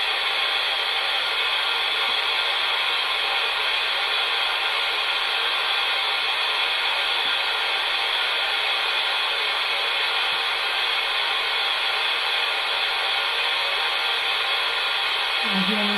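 Radio white noise static from a ghost box runs as a steady, even hiss for the whole stretch, loud and unbroken, with no clear voices.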